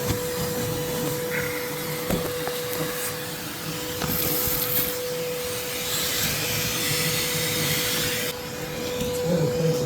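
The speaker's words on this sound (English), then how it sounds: "vacuuming everything up" A vacuum runs steadily for the whole stretch, sucking dead yellow jackets out of a massive nest in a basement, with a constant drone, occasional rattles and shifts as debris is drawn in, and no talking.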